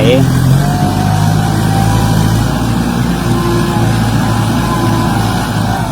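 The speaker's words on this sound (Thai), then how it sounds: "ตอนนี้รถไถเพิ่นกำลัง ปรับดิน ปรับดินที่ถมให้มันเสมอกัน" A tractor drones steadily nearby as it levels filled soil, with a constant low rumble and a faint tonal whine throughout.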